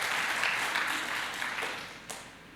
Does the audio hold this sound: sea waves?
no